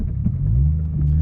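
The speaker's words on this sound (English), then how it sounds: "I don't know if you can hear the rattling right now" Toyota JZX100 Chaser driving with a solid subframe and diff bushings, a rear LSD and a noisy transmission, giving a loud steady low engine and drivetrain rumble with faint rattly ticks over the drone.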